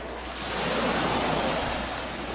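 Ocean waves breaking on a beach during a summer music-video shoot, a broad, steady rush of surf that swells and eases, with no voices.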